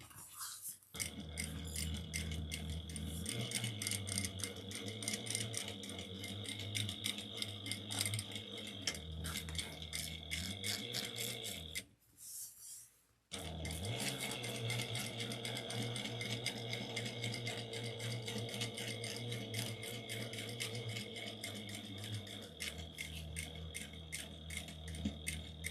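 Sewing machine stitching steadily with a rapid, even mechanical rattle that runs continuously, pausing briefly once midway before resuming at the same pace, with no talking.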